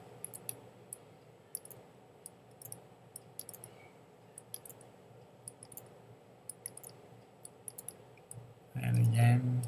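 Rapid light mouse clicks while retouching a portrait in Adobe Photoshop, ticking in quick irregular bursts over a low background hum, ending in a louder thump.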